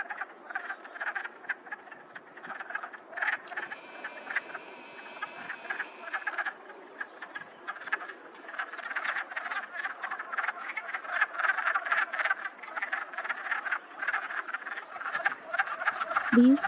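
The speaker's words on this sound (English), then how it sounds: "These are wood frogs," A chorus of wood frogs croaks from a spring muskrat pond, their dense rapid clucking calls overlapping steadily and rising slightly louder over time, with no voices.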